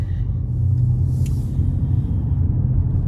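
A car's engine rumbles low and steady as it pulls away from the curb after stopping on the right, a close, even drone with no voices.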